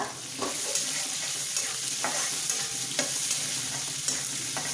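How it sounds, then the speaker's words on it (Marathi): Onion with curry leaves and a pinch of asafoetida sautéing in hot oil: a continuous close sizzle with occasional soft scrapes and taps of a stirring spoon against the pan. "कढीपत्ता कांदा कांदा चांगला परतून घ्यायचा आपल्याला आता"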